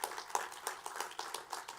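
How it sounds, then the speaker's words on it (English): A small group claps briskly with irregular beats at an ROTC commissioning ceremony, the applause moderately loud and steady with no voices over it. "Give him a round of applause."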